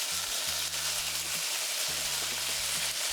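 Chicken pieces sizzling in a hot pan for pasta pesto, a steady close broadband hiss of frying fat running throughout, with low clunks of pieces being placed and stirred.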